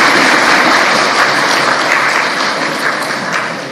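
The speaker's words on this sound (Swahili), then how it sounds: "Tumpigie makofi mengi sana Mheshimiwa Samia Suluhu Hassan, Rais wa Jamhuri ya Muungano wa Tanzania." Audience applause for President Samia Suluhu Hassan of Tanzania, a dense, loud wash of many hands clapping without a break, easing off slightly at the end.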